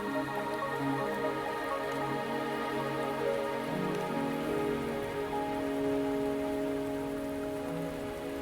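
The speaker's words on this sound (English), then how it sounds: "Are you trapped here by the rain?" Rain falling in the video game Wuthering Waves, a steady hiss of rain on surfaces with scattered drips, continuous and even under sustained tonal background music, no voices.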